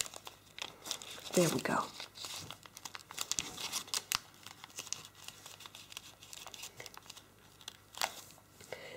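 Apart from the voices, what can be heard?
folding paper for an origami bear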